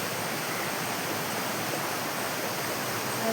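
Small stream beside a house in the rainy season, a steady close rushing wash of water, even and unbroken, with no voices.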